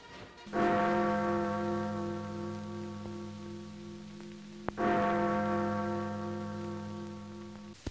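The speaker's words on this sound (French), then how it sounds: "et les cloches sonnent" Deep church bells toll twice on Victory in Europe Day, each stroke ringing out and fading slowly, with faint patter underneath.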